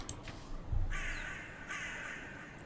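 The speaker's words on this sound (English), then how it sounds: "Oh, there's so many crows." Several crows caw in a video game, a few harsh calls spread across the stretch with a brief low thump early on; no one speaks.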